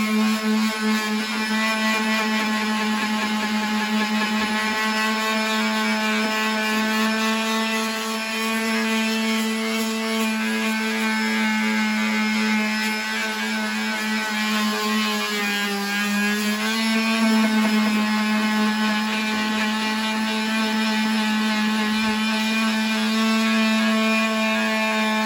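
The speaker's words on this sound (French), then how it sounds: "Là, il est en train de poncer." A power sander works over a car bumper being prepared for paint, a steady, loud whine with a strong constant hum that runs unbroken throughout without pauses.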